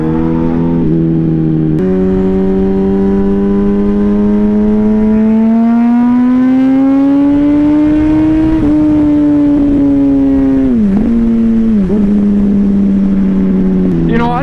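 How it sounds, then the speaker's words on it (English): A Yamaha motorcycle engine revs loud and close, its pitch climbing steadily then dipping and rising again in quick throttle blips, continuous throughout without talk. "Yamaha, I want to thank you guys for making such a sweet sounding bike"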